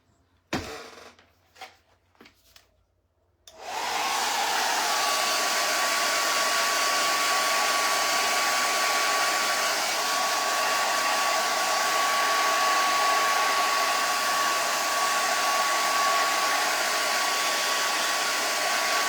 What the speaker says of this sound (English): We are going to dry it quick, so if you give me just a minute, it'll just be a little bit noisy